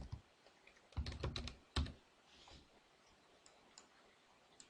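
Keys clack on a computer keyboard in a quick burst of several strokes, then a few isolated, fainter taps, close and fairly quiet with no talking.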